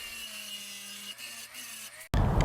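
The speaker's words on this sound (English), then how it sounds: "I used a Dremel and just set up a little fence parallel with the grooves" A Dremel rotary tool with a cutting wheel runs with a thin, steady motor whine while cutting grooves into a metal golf club head, then breaks abruptly into a loud, rough grinding burst.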